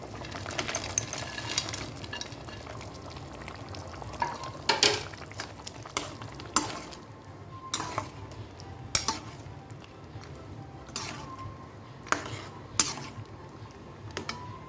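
Dry-roasted dry nuts being stirred in a cooking pan, with a spoon scraping and clinking against the pan in irregular bursts over a low steady background, close by and with no talking.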